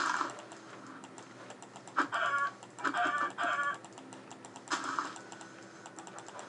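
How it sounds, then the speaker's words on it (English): Chickens cluck intermittently in a video game, short bursts at moderate level over a steady background, mixed with dense rapid computer keyboard typing clicks throughout. "We can punch these chickens."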